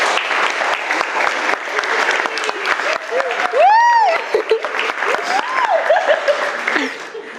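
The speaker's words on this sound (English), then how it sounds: "Can we have a round of applause for Jenny" Wedding guests applaud for the bride at a reception, dense sustained clapping with cheers and whoops rising through it, including a loud high whistle midway, fairly close and lively.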